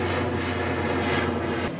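An airplane flies over a campground beside an airport, giving a loud, continuous low engine drone that holds steady throughout and drowns out other sounds.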